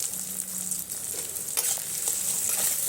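Spices with turmeric and chili powder frying in a pan, with a soft steady sizzle and a few light stirring scrapes toward the end.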